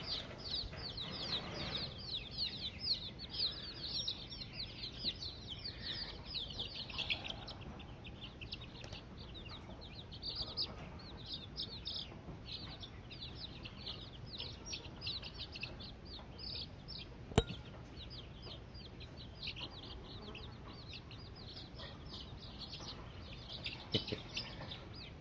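Baby chicks peep in rapid high chirps over a long stretch, soft and nearby, with scattered clucks and no talk over them.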